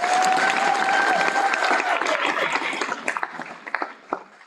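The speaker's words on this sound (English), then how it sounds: "Let's give them another round of applause." An audience at a graduation ceremony claps in a loud, dense round of applause that gradually thins into scattered individual claps, with a few faint whistles early on.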